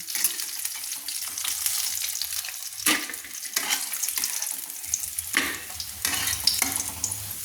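Pieces of rohu fish sizzle steadily in hot oil in a kadai for rui posto, with sharp scrapes and clinks as pieces are lifted out one by one; no one speaks.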